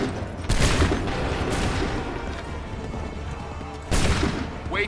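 Musket volleys fired on command in Assassin's Creed 3, two heavy booming bursts a few seconds apart, the first trailing off into a long rumbling echo, with faint voices in the background.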